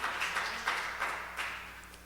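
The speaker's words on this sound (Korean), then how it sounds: "다시 한번 영광의 박수를 드리고" Congregation clapping in a church during a worship service, a broad steady wash of applause with a few louder swells, moderately distant and continuous throughout.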